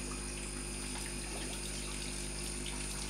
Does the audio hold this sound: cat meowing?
no